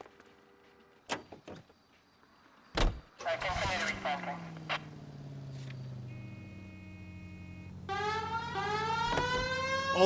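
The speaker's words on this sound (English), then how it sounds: "We have a siren." A police car siren wails in the video game L.A. Noire, its rising and falling tones swelling over the hum of the car's engine, with sharp clicks and bursts of game sound before it starts.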